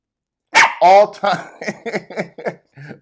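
A dog gives a couple of loud, close barks at the start, followed by a run of shorter sounds that may be more barking or talking.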